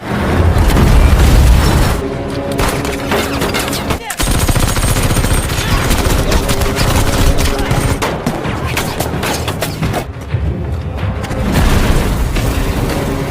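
Loud, sustained gunfire and booming blasts from a film shootout between police and gun smugglers, dense volleys rolling almost continuously with brief dips, close and dramatic, with a voice faintly under the din.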